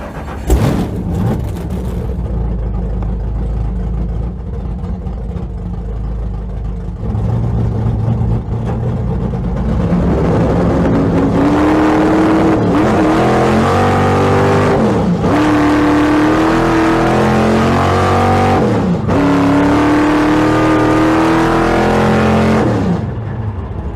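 A race car fires up on the Bonneville Salt Flats and then revs hard through rising gear pulls. The engine is loud and close, with repeated climbing whines broken by short gaps between shifts.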